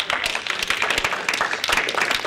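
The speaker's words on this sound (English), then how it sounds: "I think all of y'all deserve a round of applause for supporting this and being a part." Applause from the audience at a Starkville city Board of Aldermen meeting, a steady dense patter of many hands clapping close by, with no voices over it.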